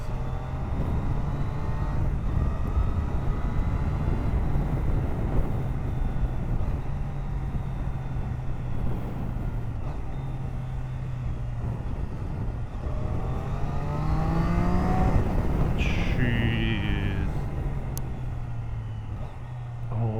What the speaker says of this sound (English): Real tiny blips of the throttle for those rev matching downshifts.